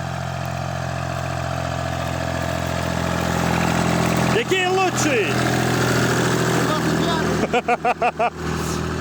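A T-25 tractor engine runs at a steady low mechanical drone throughout, close and continuous, while people talk over it and a few sharp chattering bursts break in near the end.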